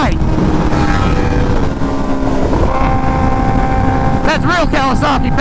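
Kawasaki Ninja H2 motorcycle engine roaring loudly nearby under heavy wind noise, with sharp rising and falling revs toward the end.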